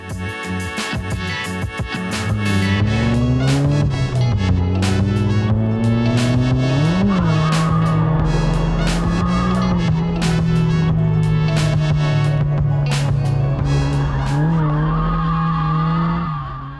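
A stock Mazda Miata drift car slides around a corner with sustained tire squeal and a steady, loud engine note whose pitch wavers as the skid holds, close by and with no one talking.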